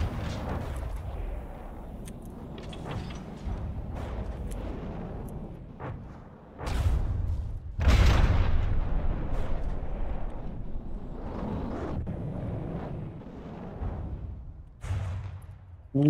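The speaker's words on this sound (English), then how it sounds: "And there are more harpoons." Harpoons and missiles fire in the vehicle-combat game From the Depths during an airship tournament battle, heavy booming launches and blasts arriving in uneven bursts over a rumbling background.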